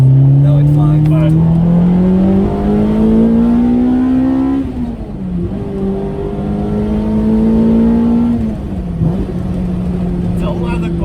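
A car with a 2ZZGE engine pulls hard in second gear, its loud, close engine note climbing steadily in pitch, dipping at a shift, then rising again, with voices talking over it.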